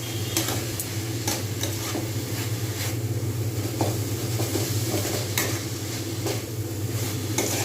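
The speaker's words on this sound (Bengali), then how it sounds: "ভালোভাবে আমি এই পুরটাকে একদম পুরো শুকনো শুকনো করে এবং ঝুড়ো ঝুড়ো করে ভেজে" Sweet coconut filling for patishapta being stirred and fried dry in a pan, with a spatula scraping in repeated strokes over a constant sizzle, close and fairly loud.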